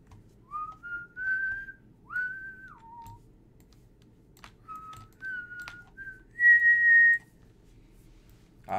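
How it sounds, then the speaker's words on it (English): A person whistles a short, melodic tune alone in a quiet room while working on scaled Pepakura armor, the clear sliding notes arriving in separate phrases with soft taps and clicks between them. "Ah, yes, the whistle."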